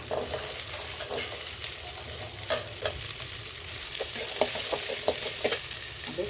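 Onions frying in a pan with cumin or fennel, cinnamon, ginger and garlic for mutton curry, giving a steady close sizzle broken by repeated spatula stirring clicks, no voices.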